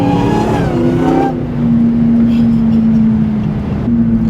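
Supercharged Jeep engine pulling in third gear in 4 high, a loud steady drone with a sustained supercharger whine running through it, close up, with someone talking over the start.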